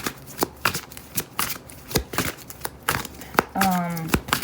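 Tarot cards being shuffled by hand in a series of quick papery riffles and flicks, close and fairly loud, with a voice speaking briefly near the end.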